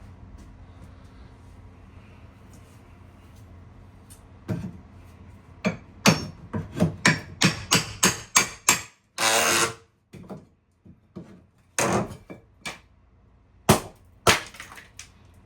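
A run of sharp, loud impact strikes, some clustered rapidly and others spaced out, with glassy crashing in places; no voices present.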